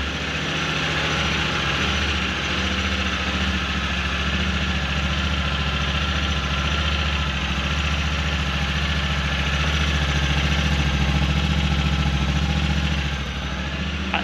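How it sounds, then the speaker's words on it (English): A 2022 Honda Talon X Fox Live Valve side-by-side engine idles steadily and quietly on its stock exhaust, a loud, close, even rumble that settles from high idle toward low idle. "It is at high idle now, and it will drop down to low idle."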